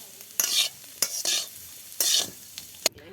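Vegetables for a village-style potato ghonto being tossed and fried in oil, a spatula sweeping the pan in about five separate hissing bursts with a sharp tap, close up and with no talking.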